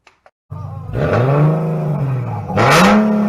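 Truck engine with its catalytic converters cut out, starting up after two faint clicks then revving hard twice, a loud raw roar rising in pitch, close and without talk.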